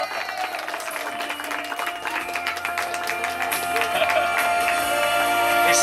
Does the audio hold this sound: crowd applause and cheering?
yes